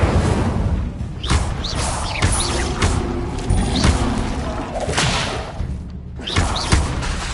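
Spell-casting effects from a Harry Potter video game, a dense run of booming thuds and whooshing bursts that repeat roughly every second over a busy, loud game soundscape.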